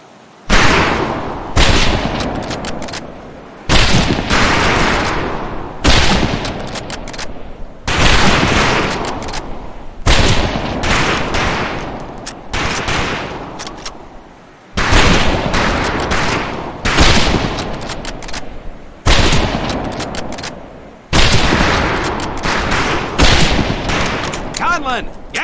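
Rifle volleys on a firing range in Medal of Honor: Pacific Assault, World War II era: loud, repeated bursts of many shots fired together, roughly every two seconds, each with a sharp crack and a decaying echo.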